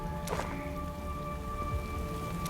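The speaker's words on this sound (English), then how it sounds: "Hey, awful weather we're having. Rain came out of nowhere." Steady rainfall in the Diablo Immortal game fills the background with a constant even hiss of drops, with no voices over it.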